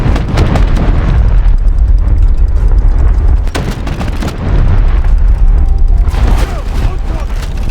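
Naval shells exploding in the War Thunder Mobile sea battle game, with heavy booming blasts and rumbling impacts layered loudly one after another, mixed with mechanical clatter.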